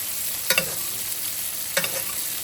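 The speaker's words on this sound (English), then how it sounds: "I just baste the steaks with the butter and the steak drippings and the garlic and the rosemary" Steaks basted in a very hot pan with butter, drippings, garlic and rosemary: a steady low sizzle with two brief clusters of spoon scrapes and splashes.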